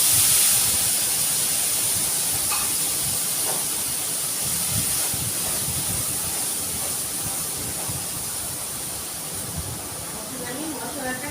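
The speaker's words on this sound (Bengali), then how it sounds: "আর এই মশলাটা নুন দিয়ে সব কিছু দিয়ে একসঙ্গে মিক্সিতে পেস্ট করেছি ভালো করে, আমি দিয়ে দিচ্ছি তেলের মধ্যে" Spice paste of ground masala and salt hits hot oil in a pan for a pabda fish curry, a loud, steady, close hiss and sizzle that slowly eases over the clip.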